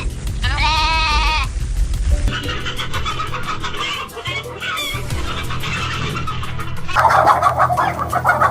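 Farm chickens and sheep make a busy barnyard din, with a bird's rising call early, continuous clucking and bleating over a low rumble, and a louder, brighter burst of squawking toward the end.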